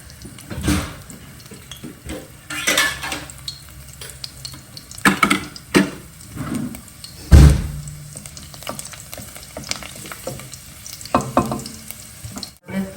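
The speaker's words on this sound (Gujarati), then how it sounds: "આ તેલ આપણું ગરમ થઈ ગયું છે તો એની અંદર આપણે લસણ નાખી દઈશું" Garlic drops into hot oil and fries with a crackling sizzle, broken by sharp clanks and scrapes of a metal spoon against the pan that come and go over a low frying hiss.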